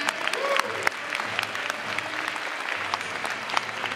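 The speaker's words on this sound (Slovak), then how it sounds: "A ešte raz veľký potlesk." Sustained applause from a crowd at a cosplay parade at ComicsSalón & IstroCON 2012, steady and moderately loud with dense overlapping claps and a few sharper individual hits, lasting the full span.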